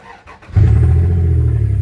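A 1999 Dodge Ram pickup engine with its exhaust cut off catches after brief cranking and settles into a loud, close, steady rumbling idle.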